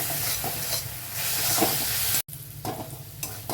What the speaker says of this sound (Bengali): তেল গরম হয়ে গেছে, এবার পেঁয়াজ কুচিটা ছেড়ে দিচ্ছি।